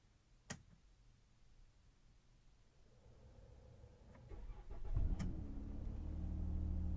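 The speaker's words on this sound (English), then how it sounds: "Let's try to start the engine." A 2018 Dodge Grand Caravan Cargo engine cranks and catches in cold weather, then settles into a steady idle that builds in loudness; a click comes first, with no talking.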